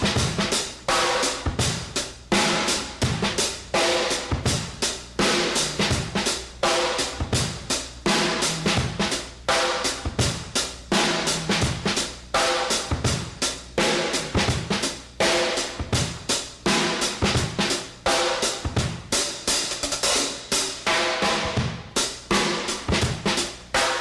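Funky drum-kit groove of dense snare work built from ghosted diddles and grace notes in three different snare tones, played deliberately loose and sloppy over added kick drum, a steady, busy pattern running about 24 seconds with no talking.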